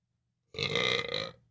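A single loud, drawn-out burp lasting about a second, heard up close and alone in an otherwise quiet room.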